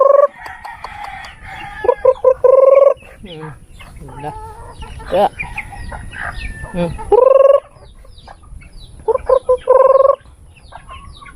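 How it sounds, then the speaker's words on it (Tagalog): Chickens clucking and squawking nearby in a noisy flock, with repeated loud bursts of crowing-like calls and a person briefly speaking among them. "Gubot ang mga chicken."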